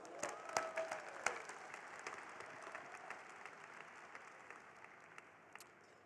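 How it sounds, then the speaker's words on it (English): Conference plenary audience applauding, scattered close claps within a broad crowd clapping that gradually thins and fades toward the end, fairly quiet overall. "Maybe another round of applause."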